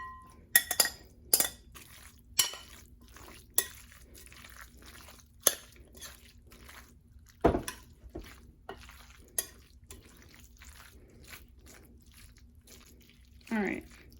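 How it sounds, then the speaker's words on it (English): Tuna salad is scraped and spooned from one bowl into a larger bowl with a utensil, giving scattered clinks and taps of metal on the bowl at irregular intervals, with brief wet stirring sounds near the end. "I'm going to transfer this to a bigger bowl so that I can stir in the mayonnaise and mix that together a little better"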